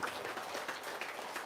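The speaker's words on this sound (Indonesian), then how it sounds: "tepuk tangan dong" An audience at a special Eid al-Fitr gathering applauds. The clapping is faint and distant, a continuous soft patter with no voices on top.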